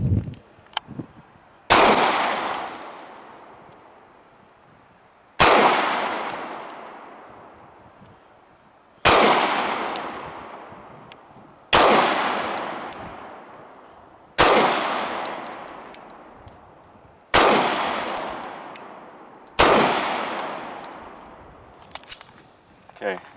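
Springfield Armory XDs 9mm pistol fired at 8 yards, about seven sharp, loud single shots spaced a few seconds apart, each ringing off into a decaying echo.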